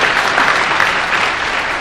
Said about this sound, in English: That's right, we can cheer